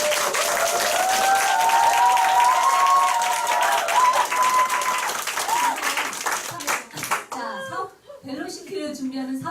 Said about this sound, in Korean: 큰 박수 한번 다시 한번 보내드립니다